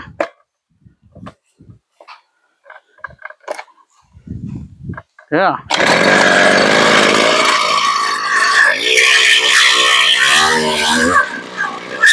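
A power auger drills fence post holes, starting with scattered knocks and handling noises before the engine roars in loud and close, then a sustained, rough churning drone that carries on to the end.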